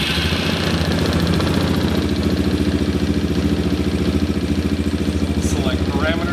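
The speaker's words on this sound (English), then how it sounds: "we'll go ahead and start up the engine again" A car engine idles steadily after being restarted during an OBD scan tool check, a low continuous rumble with a regular pulsing throb and faint higher rattles near the end.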